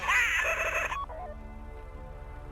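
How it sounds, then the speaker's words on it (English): A bank vault door opens in the video game Grand Theft Auto Online. A loud, squealing mechanical groan lasts about a second, then drops to a steady low hum and rumble. "Take out your phone and trigger the door."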